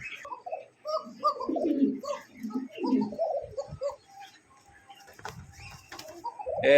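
Pigeons at a farm give soft, rolling coos in short bursts, close and fairly clear, with a few chirps and faint other birds around them.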